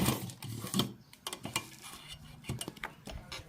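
A sewing machine stitches along the folded edge of baby dress fabric, its needle clattering in uneven close bursts with short pauses between runs, and no talking.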